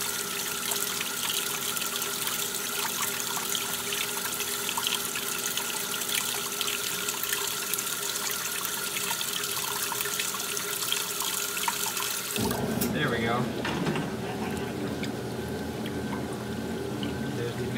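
A Maytag washing machine filling with water, a steady pouring rush into the tub that changes abruptly near the end to a lower, gurgling flow, continuous and close.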